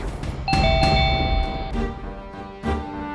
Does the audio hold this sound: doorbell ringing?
yes